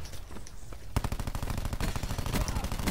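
Rapid automatic gunfire from a favored weapon in Call of Duty: Black Ops 4 team deathmatch, dense bursts of shots that start sharply about a second in and continue loud and steady.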